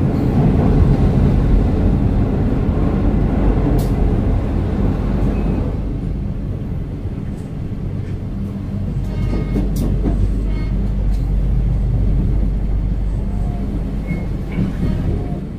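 A train rumbles into YIA Airport station in Kulon Progo, Yogyakarta, heard from inside as a loud, continuous low roar and rattle that eases slightly as it slows, with faint clicks over the steady noise.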